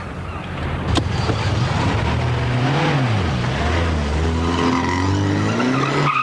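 A car skidding after the handbrake is pulled: a loud, continuous engine roar with a rising and falling squeal of tyres sliding on the road, close and unbroken.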